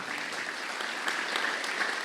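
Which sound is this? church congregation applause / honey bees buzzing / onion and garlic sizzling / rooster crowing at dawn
church congregation applause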